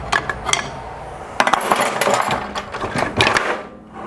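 A crankshaft is worked out of a blown-up Briggs & Stratton engine during a teardown, giving a close series of metallic clanks, scrapes and knocks in irregular bursts.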